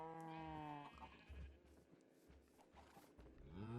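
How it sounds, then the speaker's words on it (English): Minecraft sheep bleat once, a wavering tonal cry at the start, followed by soft scattered game noises and hoof-like clops. "you got horses, sheep, cows"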